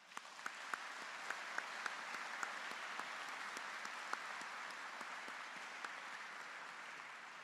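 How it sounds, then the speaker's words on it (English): An audience at an engineering graduate recognition ceremony claps for the 2022 graduates, a steady, fairly distant wash of applause with a few sharper individual claps standing out, holding evenly throughout. "I'd like to ask a round of applause for that right now."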